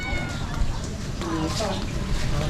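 A short cat meow rises out of busy night-street chatter on Calle Crisologo in Ilocos Sur, with people talking nearby over constant crowd murmur.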